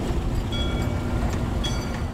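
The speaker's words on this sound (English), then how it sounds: "It's an almost 80-year-old train chugging out of the barn at Rutherford's Farm Market near Benton." An almost 80-year-old train pulls out of a barn at a farm market near Benton, Pennsylvania, giving a steady loud rumble with rattling cars and faint squeaks, no talking.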